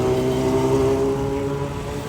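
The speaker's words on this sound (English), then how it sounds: "BMW 740 Li." A BMW 740 Li luxury sedan passes close by with a steady engine hum and tonal drone, loud at first and easing slightly as it moves away, with no talk.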